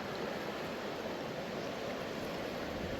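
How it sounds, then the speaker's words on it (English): Marble Creek flows where it meets the St. Joe River in North Idaho, giving a quiet, steady rushing wash of water with no breaks and no voices. "The sound of that river."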